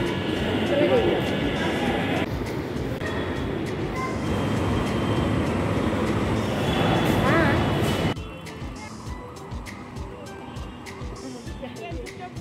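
A Delhi metro train rolls through Okhla metro station, its loud steady rumble and whine filling the platform before dropping off abruptly as it departs, with people talking nearby.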